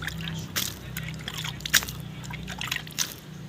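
Water poured onto a crumbling clay stove being repaired, soft close-up drips and wet splashes with a brief louder slosh in the middle over a faint background hum.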